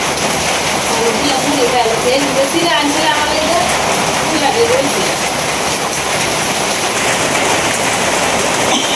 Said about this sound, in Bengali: বৃষ্টি আসছে